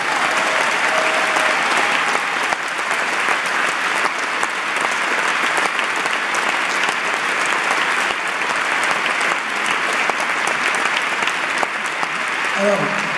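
A concert audience at the Olympia applauds the technician Clément Ladune, a dense, steady wash of clapping that stays loud and even for the whole stretch.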